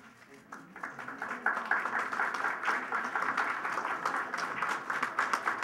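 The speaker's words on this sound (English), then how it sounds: "There was much applause in the unveiling of this maquette." Applause from an audience at an El Paso unveiling of a Benito Juarez maquette, a steady wash of many hands clapping at moderate distance, swelling slightly after the first second and sustained to the end.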